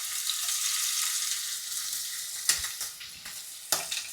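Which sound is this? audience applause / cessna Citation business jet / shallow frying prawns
shallow frying prawns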